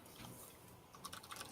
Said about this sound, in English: Okay, he's typing something.